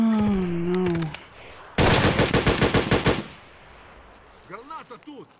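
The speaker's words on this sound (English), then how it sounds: "I had a player scav just shoot me." Gunfire in Escape from Tarkov: a loud, close burst of rapid automatic fire from a player scav rattles for over a second, following speech and trailing into fainter scattered shots and voice.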